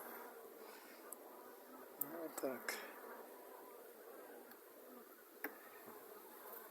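A dense, steady buzzing of Buckfast honey bees at a hive fills the air, with a few louder passes nearby and a brief spoken phrase.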